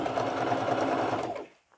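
A sewing machine stitches a fringe boho tote bag in a loud, steady whirring run that is close by, then stops abruptly near the end.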